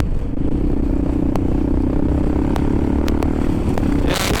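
A motorcycle ridden on the road, its engine droning steadily and loudly up close with a constant rumbling hum and occasional clicks, no talking.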